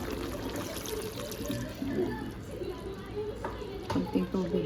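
Water pours into a pan of chicken adobo, splashing and sizzling against the hot meat in short bursts, with a voice talking over the cooking.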